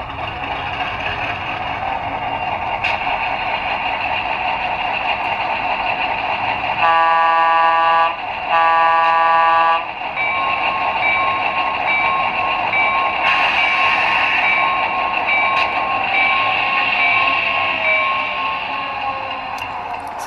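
An HO scale model locomotive numbered 6177, run by a sound decoder, gives two strong horn blasts over a steady droning engine hum that carries on before and after them.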